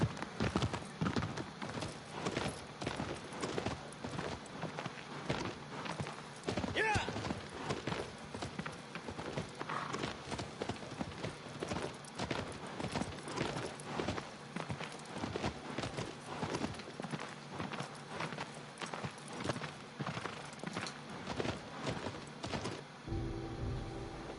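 Horse hooves clip-clop in a steady walking rhythm throughout in the video game Shadow of the Colossus, crisp and fairly close, with a brief whinny and faint ambient sounds in the background.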